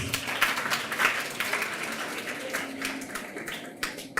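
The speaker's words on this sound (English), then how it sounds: "Let's give them a hand, please." Audience at a grade 6 graduation claps for the pupils, scattered, moderately loud applause with distinct individual hand claps and faint background murmur.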